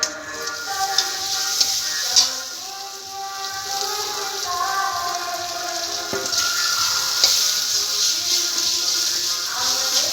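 Fried potatoes tipped into a pan of sizzling spiced masala, a steady loud hiss and crackle of frying up close, with a few sharper spatters and no talk.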